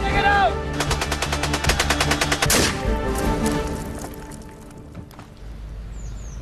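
Rapid bursts of rifle and machine-gun fire crackle during army battle training on a platoon sergeant's battle course, followed by scattered shots and a fading outdoor ambience, with a voice briefly audible.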